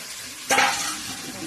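A fish curry with potatoes fries in a pan, a sudden loud burst of sizzling as ingredients hit the hot oil, then settling into a steady close hiss with faint stirring.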